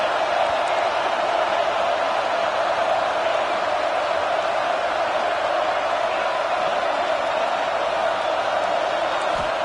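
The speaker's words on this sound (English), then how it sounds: "Listen to this crowd just shaking the girders of this place" A huge stadium crowd at a Clemson at South Carolina football game roars continuously and loudly, a dense, unbroken wall of cheering voices that holds steady throughout.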